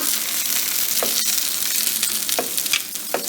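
Ricotta-wrapped vegetarian patties fry in hot oil with a steady, close sizzle, broken by a few sharp crackles and pops, and no voices.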